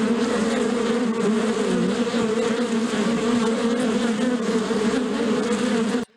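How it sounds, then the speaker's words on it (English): A loud, continuous buzz of honeybees plays from a speaker placed near an elephant crossing zone by a railway track, steady and dense throughout before cutting off abruptly. "plays a loud buzz of honeybees"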